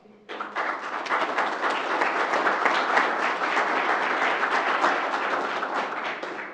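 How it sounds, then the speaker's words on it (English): City officials receive applause from the audience at a Lowell city council meeting, a burst of steady clapping from a room full of people that starts suddenly and holds for several seconds. "I think they deserve a round of applause"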